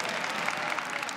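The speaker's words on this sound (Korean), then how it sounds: "박수 한번 주십시오." Audience applause at a Korean military unit's singing contest, steady dense clapping throughout at close to moderate distance, with no voices over it.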